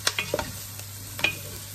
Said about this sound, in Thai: นี่ใช้ไฟแรงนะคะคั่ว